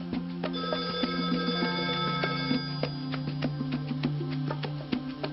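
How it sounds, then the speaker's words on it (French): A telephone ringing in repeated electronic bursts with a steady rhythm, heard alone as if through the line at the far end, with no talk. "Le téléphone sonna."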